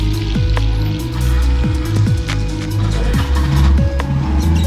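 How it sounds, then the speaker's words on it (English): A tuk-tuk drives along a road near the Mitla ruins in Oaxaca, its small engine humming steadily up close with repeated rising revs and gear changes, and no voices over it. "A tuk-tuk."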